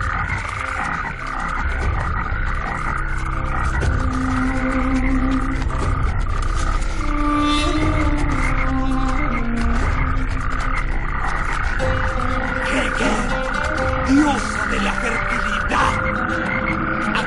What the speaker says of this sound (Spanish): ¡Yo te ruego que broten ranas de estos sesos ahora!